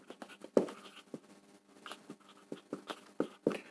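A pen scratches across paper while maths working is written out, producing close, quiet, irregular taps and short scratchy strokes that come in quick clusters with brief pauses.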